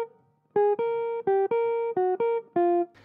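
A clean, sustained electric guitar blues R&B lick of several held notes with short gaps, bending between pitches, played alone.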